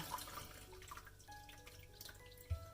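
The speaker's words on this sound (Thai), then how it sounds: "เทน้ำทิ้งเลยค่ะ แล้วก็ล้างนะคะ" Water poured out of a container while washing mackerel in a kitchen, a soft running and dripping splash continuing at moderate level with a small thump near the end.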